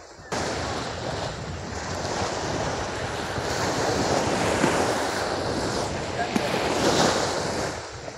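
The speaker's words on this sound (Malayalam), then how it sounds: "അപ്പം നല്ല തിരയായി കേട്ടോ കടൽ." Sea waves break and wash continuously onto the shore while fishermen haul in nets, a steady broadband roar with gusts of wind buffeting the microphone and swelling surges.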